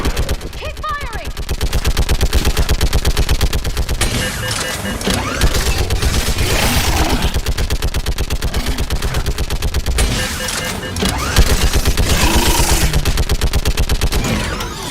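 Rapid automatic gunfire from the Mass Effect video game, a dense, sustained stream of shots with near-constant bursts across the whole stretch, loud and busy, with game voices and talk partly buried underneath.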